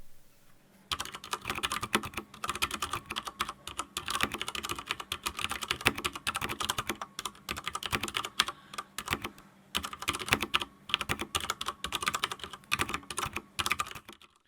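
Steady, rapid typing on a WASD CODE 88-key mechanical keyboard with Cherry MX Clear switches, dense clacky keystrokes in bursts with brief pauses, close and clear, no talking.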